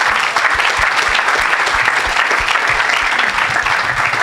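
A church congregation breaks into loud, sustained applause for the Lord, dense clapping from many hands close and steady throughout with no gaps.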